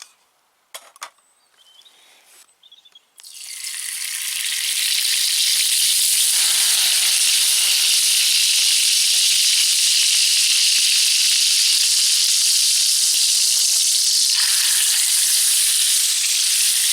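Beef fillet steak frying in a pan outdoors in a forest: a few faint clinks, then a loud, steady, close sizzle with hissing steam that runs unbroken to the end, with no talk.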